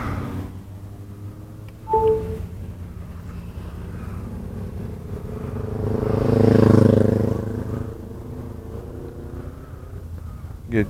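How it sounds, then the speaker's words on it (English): A Kymco maxi scooter engine starts and runs under a low rumbling idle, swelling briefly in a revving surge near the middle before settling, heard close among a riding group outdoors. "Get the bike started here"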